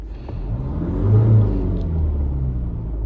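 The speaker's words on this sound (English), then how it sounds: "Let me give it a little bit of gas, so rev the engine till, let's say, 3000 RPM, and then lift my foot off the throttle." A Mazda car engine is revved to about 3000 RPM, its steady mid-pitched drone rising and swelling in the middle before easing back as the throttle is released, with no voices present.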